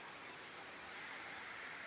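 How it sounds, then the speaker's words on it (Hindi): Steady rain falls at a crossroads Shiva and Hanuman shrine in Padariya, Mainpuri, a continuous soft hiss of drops on surfaces with no talk, faint and even throughout. "देखिए बारिश हो रही है।"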